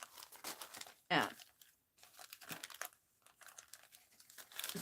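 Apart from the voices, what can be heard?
gift wrap paper being trimmed to size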